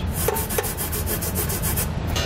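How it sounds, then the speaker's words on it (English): A nylon tube brush scrubs the threads of a weld nut on a 2019 Honda Pilot frame before a trailer hitch install, a brisk, even back-and-forth rasping of about ten strokes, close and loud with no talk. "use a nylon tube brush, and clean the threads"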